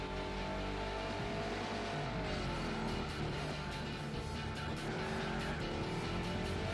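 Race car engine in Gran Turismo 4 roars steadily and loudly throughout, its pitch rising and falling with shifts, with some tire squeal mixed in.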